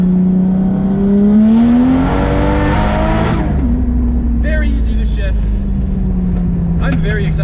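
A tuned, high-power car engine revs up hard near the limit and drops back, loud and close, with a steady drone continuing as a few faint clicks follow.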